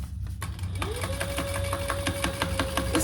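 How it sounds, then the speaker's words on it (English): A sewing machine runs steadily as it top stitches a seam one-eighth inch from the edge on the bottom panel of a shoulder bag, a continuous close mechanical whir with a rapid needle rhythm and no talk. "we're going to top stitch that on the bottom panel at 1/8 of an inch"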